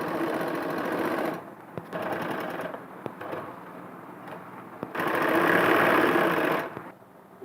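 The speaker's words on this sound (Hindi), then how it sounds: "ये जमती सिलाई लगा रहे हैं हम।" An electric sewing machine runs a stay stitch around a blouse's lining fabric in steady close whirring bursts broken by short stops, the last run the loudest and longest.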